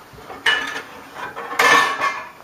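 Ceramic bowl and metal ladle clinking while plating sauteed mussels, two or three sharp close clatters with softer scrapes between them.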